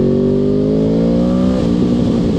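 A go-kart engine revs steadily and loudly with a rough, uneven tone from one cylinder not firing, its pitch rising slightly before dropping and stuttering near the end.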